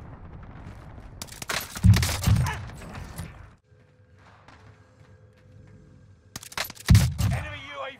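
Bursts of video game gunfire in Call of Duty Warzone come in two loud, close clusters separated by a quieter stretch of faint mechanical noise, with some rapid overlapping shots.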